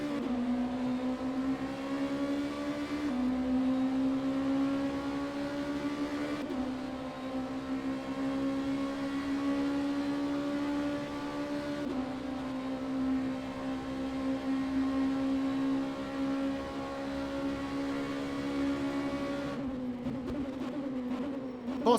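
An Oreca 05 LMP2 race car with a Nissan V8 in a racing video game drones loudly and steadily, its engine note climbing and dropping at several gear changes as it laps.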